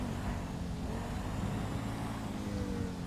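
A Mustang car in a video game speeding through traffic and red lights, its engine a dense, steady, loud roar blended with road noise, no voices.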